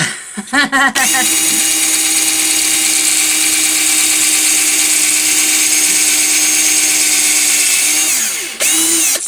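A power drill whines steadily at a constant high pitch for several seconds, close and loud, starting after a few short bursts and stopping near the end.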